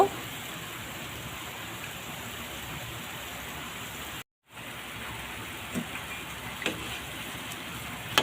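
Palm fruit fritters (taler bora) sizzle steadily in hot oil, a dense continuous crackle with a short gap midway and a few soft clicks as they are turned.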